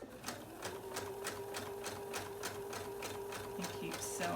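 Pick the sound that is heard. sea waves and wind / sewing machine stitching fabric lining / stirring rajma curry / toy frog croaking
sewing machine stitching fabric lining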